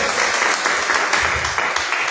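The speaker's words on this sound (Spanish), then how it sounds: "Denle un aplauso fuerte" A church congregation claps in a steady burst of applause during a sermon, even and sustained for a couple of seconds.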